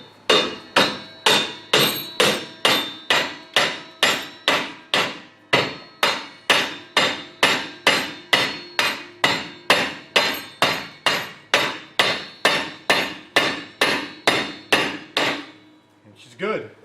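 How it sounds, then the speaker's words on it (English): A steel axle is hammered into a Ford 9 inch rear end pumpkin, about thirty sharp, evenly spaced metallic blows ringing close and loud for roughly fifteen seconds, then stopping. "And now hammer that baby in."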